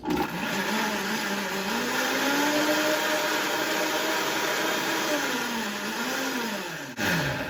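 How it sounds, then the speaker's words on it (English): A Vitamix blender running steadily and loud, its motor pitch rising and dipping as the load shifts, then cutting off near the end. "this is Vitamix"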